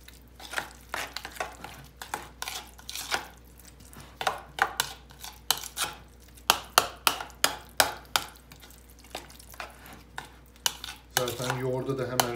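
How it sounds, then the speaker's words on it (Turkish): A spoon stirs carrots into yogurt in a pan for a carrot tarator meze, giving quick repeated scraping and clinking strokes against the metal, close and busy, followed by a brief wet rustle near the end. "Şimdi bunları karıştırıyorum iyicene"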